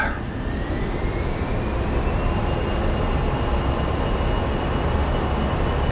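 Twin jet engines of an A-10 in the DCS flight simulator spool up while held on the brakes, a loud, steady, dense roar with a rising whine throughout.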